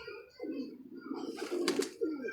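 A female black Jiri pigeon coos in low, rolling, repeated notes close by, with a brief rustle or flutter partway through.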